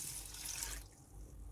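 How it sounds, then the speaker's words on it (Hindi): Faucet water splashes over lentils being washed in a sink, a brief close stream that cuts off partway, leaving a soft trickle. "इसको मैं अच्छी तरह से धो के"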